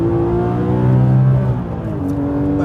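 A Porsche GT3 RS accelerates out of a corner. The engine tone is loud and rising, with a strong steady whine that dips briefly before climbing again, and no voices.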